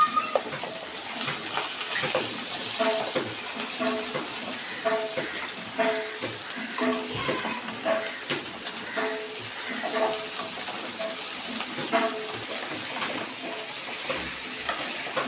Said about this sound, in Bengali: এবার আমি সবজিগুলো একে একে সব দিয়ে দিচ্ছি